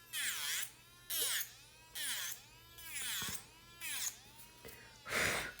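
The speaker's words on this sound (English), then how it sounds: "The drill sounds like it's about to die, girl" A struggling electric nail drill works on acrylic nails in repeated short bursts of high whining buzz, roughly one per second, pitch sagging and rising under load, close and fairly quiet against a low background hum.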